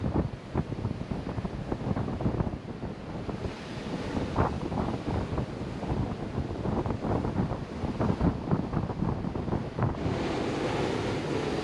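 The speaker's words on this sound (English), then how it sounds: "it's picking up a lot of the wave noise and a lot of the wind" Strong wind buffets the microphone while surf crashes and washes steadily below a pier at Gulf State Park on the Gulf Shores, Alabama coast, a loud, continuous roar with no voices.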